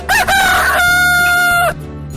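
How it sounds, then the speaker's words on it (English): One loud, close rooster crow, a rising then sustained cock-a-doodle-doo that cuts off sharply, with a low background hum after. "Rooster."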